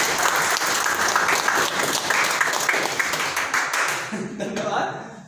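Strong audience applause during a motivational talk, sustained dense clapping from a crowd with voices mixed in, tapering off in the final second.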